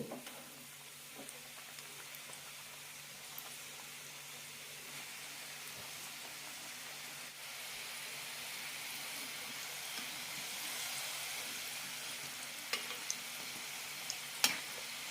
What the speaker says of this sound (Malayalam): കുഴക്കട്ട വറുത്തെടുക്കാം ലോ ഫ്ലെയിമിലിട്ട് പത്ത് മിനിറ്റോളം വറുത്തെടുക്കണം